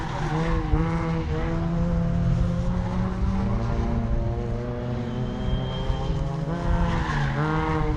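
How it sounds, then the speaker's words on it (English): Rallycross cars in a British Rallycross Swifts race roar continuously through turn one at a circuit, with engine notes rising and falling and tyres squealing loudly as a car is thrown into the corner, with no commentary audible. "More tyre squid as Chris Scott hurls the car into turn one"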